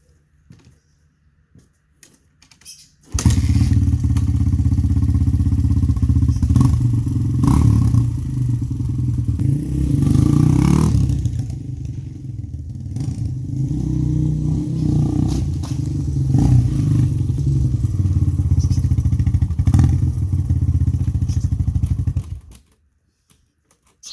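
A Honda XR200 motorcycle engine starts abruptly and runs loud and close, a rough, clattery single-cylinder putter with revs rising and dipping before it cuts off near the end.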